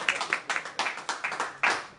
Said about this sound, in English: Are you guys not going to clap?